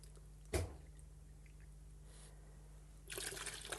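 Water is poured into a container to mix kiln wash for coating a kiln shelf. A single knock is followed by quiet, and then a steady, close pour begins near the end.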